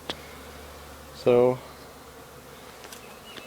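Honeybees buzz around a residential hive cutout as comb is removed, with a low steady hum and one loud bee droning close past for a moment, plus a brief word spoken at the start.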